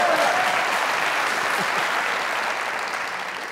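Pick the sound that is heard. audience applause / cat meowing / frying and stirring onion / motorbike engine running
audience applause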